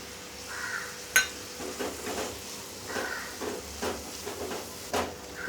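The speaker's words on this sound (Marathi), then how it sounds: "तेल सुटेपर्यंत आपण परतून घेऊया।" Masala paste for a Malvani prawn curry sautés in oil in a pan, a soft steady sizzle broken by a few sharp stirring clicks and scrapes of a spoon against the pan, close and fairly quiet.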